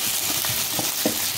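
Sliced small and large onions sauté in a pan for a Tamil prawn dry gravy, giving a steady close sizzle broken by a few soft scrapes from stirring, with no talking.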